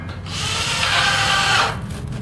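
A power drill drives fasteners into studs on insulated concrete tilt-up panel forms at a job site, a single close whirring burst that rises, holds for about a second and cuts off.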